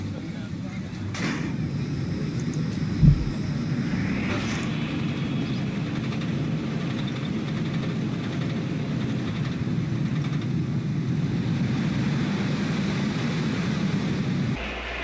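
Simulated roller coaster ride in NoLimits 2 software: a steady, continuous low rumble of the train rolling along track, with a brief thump near the start, holding evenly throughout without talk.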